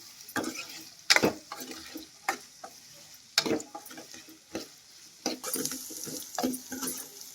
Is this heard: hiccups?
no